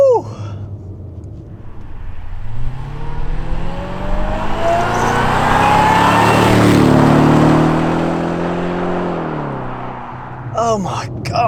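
A supercharged Jaguar XJR fitted with a Stage 1 intake accelerating hard, its engine note climbing through a long rising whine and roar over several seconds before easing off, loud and close from inside the car, with an excited voice briefly at the end.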